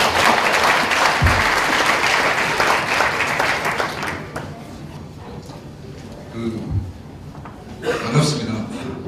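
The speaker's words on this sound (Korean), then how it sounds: "여러분 큰 박수로 환영하면서 들어보도록 하겠습니다." Audience at a Korean agricultural success-story event applauds to welcome a farm business owner to the stage, steady clapping with a laugh or two that fades partway through, then a brief renewed burst near the end.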